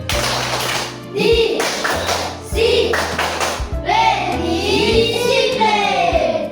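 Children in a classroom clap out the rhythmic 'tepuk disiplin' pattern, sharp hand claps and thumps in quick groups while their voices chant along, close and fairly loud.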